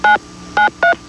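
Touch-tone telephone keys are pressed in a radio advert, three short, clear dialing beeps in quick succession, loud and alone.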